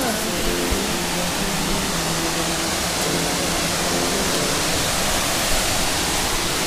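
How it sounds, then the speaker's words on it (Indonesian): Steady, dense rush of falling water from the Jomblang Tengah waterfall in Madiun, a continuous broadband roar with no breaks, fairly loud and close. "Ini air terjun lokal ya yang ada di sekitaran daerah saya."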